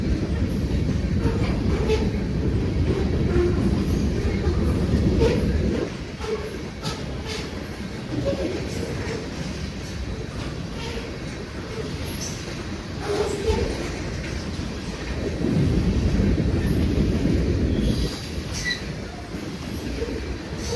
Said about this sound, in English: The potash loads are heavy, so it amazed me how quickly this 60P was able to get up to track speed today.